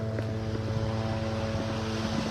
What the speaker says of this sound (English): Now here comes that helicopter.